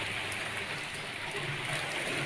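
Rain falls steadily outside a house on a wet day, a dense, even hiss of drops heard from indoors that keeps up without a break, with no talking.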